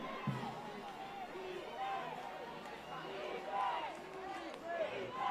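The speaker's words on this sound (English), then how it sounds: "Ed White's crowd making some noise." Football stadium crowd at a high school game, a broad steady roar of cheering and shouting from many fans, distant and sustained, with scattered yells rising above it.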